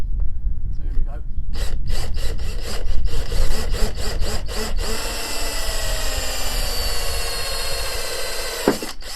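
Power drill boring into the bumper of a Fiat 500 convertible, a loud grinding whir broken by sharp bursts of repeated bites as the bit catches, then settling into a steadier drone.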